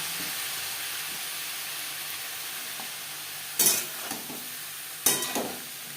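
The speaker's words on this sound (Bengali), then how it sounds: "লবণ হলুদ দিয়ে তিন চার মিনিট সিম ভেজে নেওয়ার পর এতে অ্যাড করব লাউর খোসা" Flat beans and bottle gourd peel frying with salt and turmeric in a pan, a soft steady sizzle broken by two sharp bursts of stirring and clatter near the end.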